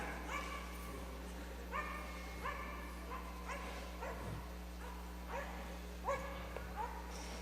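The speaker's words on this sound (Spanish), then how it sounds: "O callan ese perro o lo mando al cielo de los perros ahorita." A dog barks and yips repeatedly in short bursts from moderate distance, over a steady low hum, with no talk.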